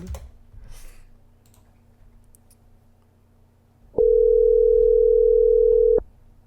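A telephone tone rings out loud and steady for about two seconds while a call is placed, after quieter background clicks and rustling, with no talk.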